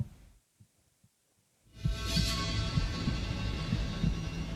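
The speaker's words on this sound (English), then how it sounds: "A heartbeat." A heartbeat sound effect: soft low thumps, faint at first, then a steady rhythmic pulse continuing under a louder rushing, droning bed of sound.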